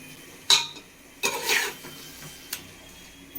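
Yogurt is stirred into biryani in a metal cooking pot, with a few scattered scraping clinks of a spoon against the pot, fairly close and separated by quiet gaps.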